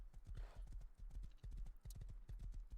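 Horse hooves clip-clop in a rapid, regular rhythm in a video game, close and clear, with a brief whinny-like breath near the start and no talk over it.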